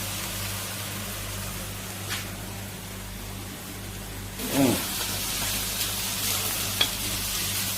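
Onions and green and red peppers fry in a pan for empanada filling, a steady close sizzle with stirring scrapes that swell and roughen midway, plus a sharp utensil tap near the end, with no voices.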